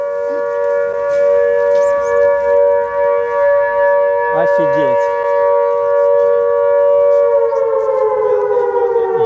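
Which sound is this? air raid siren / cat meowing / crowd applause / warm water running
air raid siren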